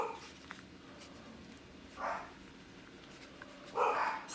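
Household dogs bark twice, a few seconds apart, in short muffled bursts from the next room over a quiet indoor background.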